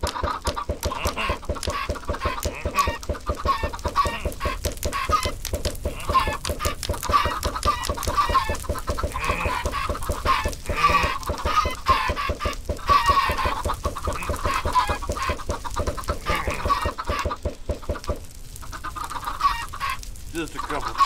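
Chickens in the Minecraft video game cluck in a rapid, dense, repetitive stream, loud and close, keeping up a busy rhythm for about twenty seconds before a brief dip near the end.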